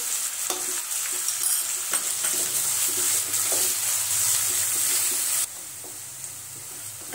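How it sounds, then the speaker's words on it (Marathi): Finely chopped onions sautéing in a pan for a Maharashtrian zhunka, with a constant bright sizzle and intermittent scraping stirs up close, the frying dropping in intensity near the end. "कांदा आपण 2 मिनिटं परतून घेऊ"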